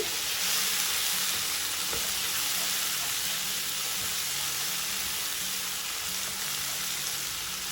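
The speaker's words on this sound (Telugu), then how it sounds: "మసాలాలన్నీ కూడా 1 నిమిషం ఇలా వేగనివ్వండి" Ground spices including coriander, cumin powder and garam masala fry in a pan for a green moong dal curry, producing a continuous, close, crackling sizzle with faint stirring, steady and unbroken throughout.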